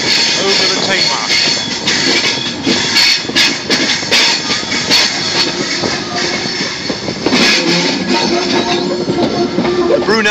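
Train crossing the River Tamar into Plymouth on Brunel's bridge, heard from inside a carriage: a loud, steady rumble of wheels and rail noise with rattling, and a voice talking over it now and then.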